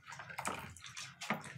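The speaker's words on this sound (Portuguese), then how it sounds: "Então agora eu vou colocar os 2 litros de água logo aqui na base." Two litres of water splash and pour into a basin while homemade 3-in-1 liquid laundry soap is being made, a close, bright gushing that swells in two surges.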